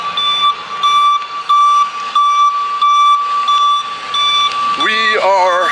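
A vehicle beeps repeatedly at a cruise port in Alaska, a loud, evenly spaced series of electronic tones, followed near the end by a short rising and falling warbling sound.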